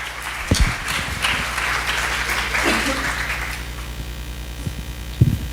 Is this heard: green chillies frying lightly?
no